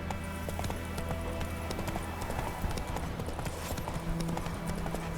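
Hooves of the horse Roach clip-clop at a steady trotting rhythm in The Witcher 3, a continuous close run of hoofbeats over the game's ambient sound.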